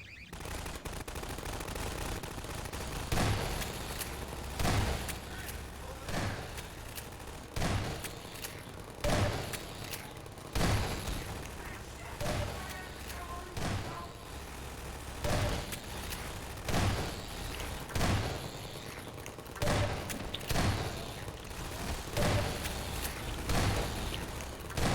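An automated turret in Half-Life 2: Episode Two fires repeated bursts over a steady mechanical background, the thumping volleys recurring every second or two and loud throughout.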